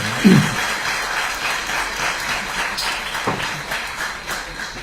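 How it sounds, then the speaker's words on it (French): Applause at a presentation of the 2024 Guadeloupe cycling tour, a moderate, steady clatter of hands from a gathered crowd that holds at an even level throughout. "J'ai pas entendu les applaudissements"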